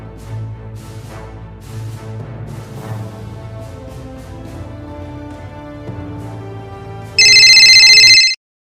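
A mobile phone ringtone for an incoming call bursts in loud, bright, and pulsing for about a second, after a stretch of soft background music, then cuts to silence.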